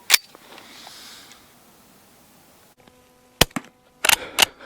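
A Colt Lightning small-frame rifle fires at a milk jug: one sharp crack at the start, then after a quiet pause a cluster of four close, loud reports with brief ringing between them.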